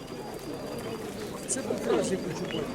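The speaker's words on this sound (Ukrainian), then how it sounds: "Ми трохи отак покажемо голубів." Pigeons coo at a fair in Dnipro, soft low burbling calls rising near the end over outdoor background murmur and faint voices.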